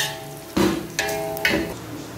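Bay leaves dropped into hot oil in a large pot of veg kurma, crackling in three distinct bursts of sizzle over a steady low frying hiss, close and fairly loud.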